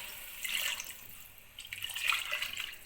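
Water splashes and trickles in two short pours into a bowl of daliya, moderately close, with a quiet pause between them.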